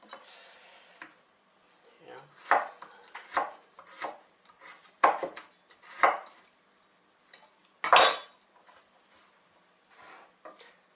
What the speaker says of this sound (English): Your carrots is cut.